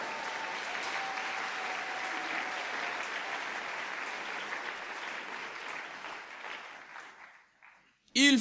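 An audience at a church sermon applauds steadily and fairly loudly for several seconds, the clapping thinning and fading out near the end before a sudden loud burst cuts in.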